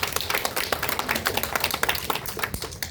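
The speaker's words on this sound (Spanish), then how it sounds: "Démosle un aplauso" A church congregation applauding, a fairly close patter of many hands clapping at an uneven rhythm over a few seconds.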